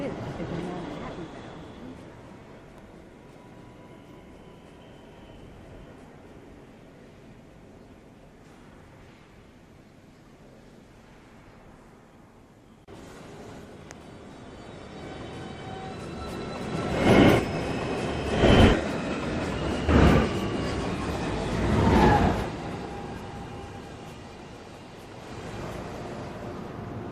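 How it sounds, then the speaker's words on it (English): A downtown local 1 train on the New York City subway approaches a station, its rumble swelling from a low hum into loud, close clattering with several sharp peaks, while an automated voice announcement plays over it. "Downtown, local 1 train. Approaching the station, please stand away from the platform edge."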